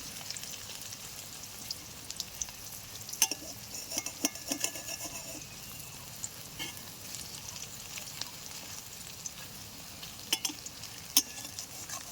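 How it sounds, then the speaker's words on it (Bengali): Paneer fries lightly in a pan with a soft, continuous sizzle, while a spatula occasionally clinks and scrapes as the pieces are stirred and turned. "এ দেখুন হালকা করে ভেজে নিচ্ছি।"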